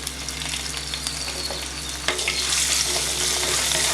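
Cumin seeds and ginger garlic paste crackle in hot oil, a loud bright continuous sizzle with scattered pops that swells louder midway as the paste is stirred in.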